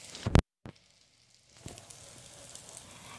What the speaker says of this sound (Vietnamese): Các bạn chiên như thế này nè.